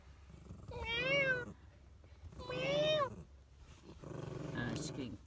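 A cat gives two long, drawn-out complaining meows, close and loud, followed by a lower grumbling growl, out in a cold, windy high-desert campsite with a chihuahua nearby.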